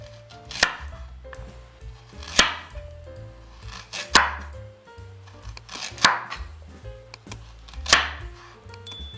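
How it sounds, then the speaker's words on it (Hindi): Knife chopping ginger into thin julienne strips on a board, five loud, sharp, evenly spaced chops about two seconds apart, with low background hum between strokes. "जूलियन शेप में अब अदरक को काट लेते हैं हम।"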